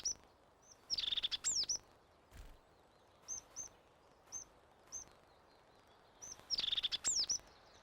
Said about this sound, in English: the crested tit gives a rattling trill, which no other tit gives